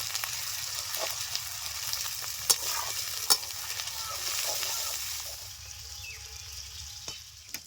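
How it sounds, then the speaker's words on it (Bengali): Spices for a Bengali-style chicken curry sizzle softly in a pan while a utensil stirs and scrapes with a few sharp clinks, close but fairly quiet, with no talk. "কাঁচা গন্ধটা চলে যাওয়া পর্যন্ত নেড়ে চলে নেব"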